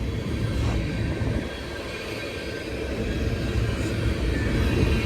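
BNSF freight train locomotives roll past near Mulvane, Kansas, giving a loud steady rumble of wheels and engines with a thin wheel squeal riding above, dipping briefly then building again, with no voices.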